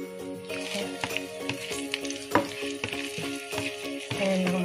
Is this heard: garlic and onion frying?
yes